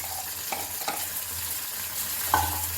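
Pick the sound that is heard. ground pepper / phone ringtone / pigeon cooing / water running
ground pepper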